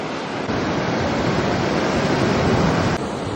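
Sea waves wash onto a beach during rain, forming a steady, dense roar of surf and falling water that holds at an even loudness throughout, with no voices.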